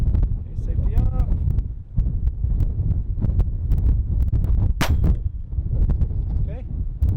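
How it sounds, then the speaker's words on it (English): A Taurus TX22 .22 handgun fires CCI AR Tactical rounds at an outdoor range, a few loud sharp cracks over steady wind rumble, with scattered clicks and a brief voice. "I'm gonna be shooting some CCI AR Tactical"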